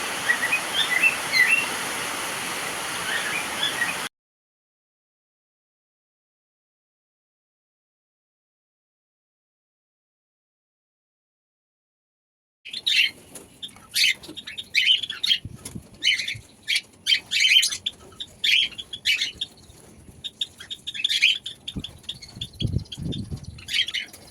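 Pet budgerigars and other cage birds chirping while eating tulsi leaves, with bright repeated tweets and light fluttering after a long silent gap.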